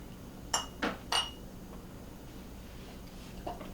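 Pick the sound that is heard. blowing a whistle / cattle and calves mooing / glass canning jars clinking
glass canning jars clinking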